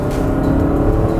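A Honda NSX accelerates hard down a straight with the throttle floored, its engine a loud, close, steady drone that holds strong throughout with no talking.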